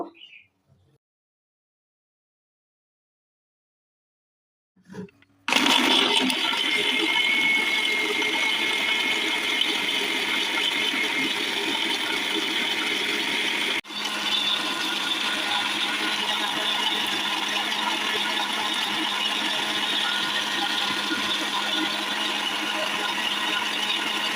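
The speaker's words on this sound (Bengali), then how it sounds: "এখন ব্লেন্ডার করে নেব।" A blender starts after a few seconds of silence and then runs loud and steady, whirring through mango lassi made with milk and a little water, with one brief dip partway through.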